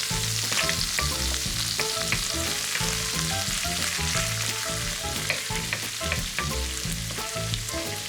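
Shallots sizzle steadily in a Ninja Foodi, a dense continuous crackle of frying with faint stirring clatter, close and loud throughout, no voices.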